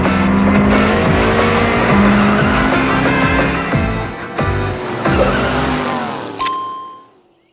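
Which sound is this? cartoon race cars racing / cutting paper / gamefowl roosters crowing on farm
cartoon race cars racing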